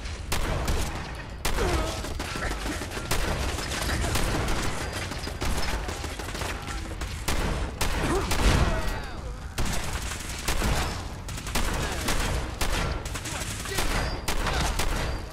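Sustained gunfire in a Fallout 4 shootout with Gunners, dense and continuous with rapid bursts and volleys for the whole stretch, loud and close.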